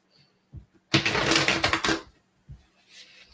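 A deck of cards being shuffled in one quick riffle, a dense burst of flapping and clicking lasting about a second, with faint taps before and after.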